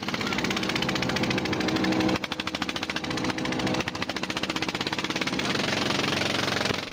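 A fishing boat's engine runs loudly and steadily, with a rapid rhythmic knocking pulse throughout and no voices.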